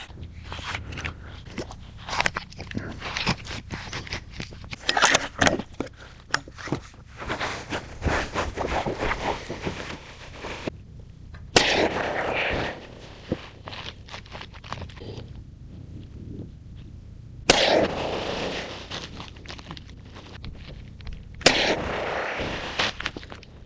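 Tikka bolt-action rifle shots at an outdoor range, a handful of sharp loud reports spaced several seconds apart over a stretch of background noise, with small shuffling and handling sounds between shots.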